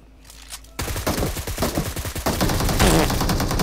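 Gunfire in the shooter game PUBG Mobile: a faint shot or two, then a loud run of rapid automatic fire that continues in dense bursts to the end.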